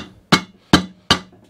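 A soft blow hammer knocks an axle stand sleeve down onto a Ransomes Ajax reel cylinder mower part: four sharp, close, evenly spaced thuds about a third of a second apart.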